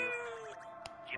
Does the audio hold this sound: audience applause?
no